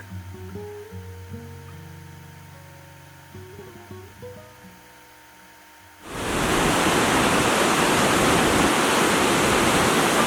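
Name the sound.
roaring waterfall at Victoria Falls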